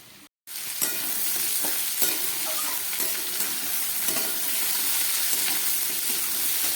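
Potatoes and kundri (ivy gourd) fry in a pan with a steady, close sizzle and occasional stirring scrapes, starting after a brief silent gap and holding at an even level throughout.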